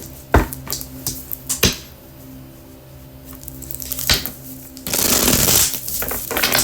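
Tarot cards are handled and shuffled: a few crisp card slaps and taps at first, then a longer, dense riffling shuffle near the end, close and fairly loud with no talking.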